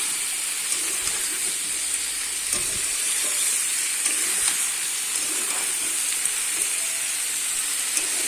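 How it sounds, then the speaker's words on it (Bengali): Mixed vegetables fry in a pan with salt and turmeric while khichuri is being prepared, giving a steady, close sizzle with a bright hiss and faint scrapes of stirring. No one speaks. "এবারে কিন্তু লবণ হলুদটা দিয়ে আমি কিন্তু ভালো করে ভেজে নেব"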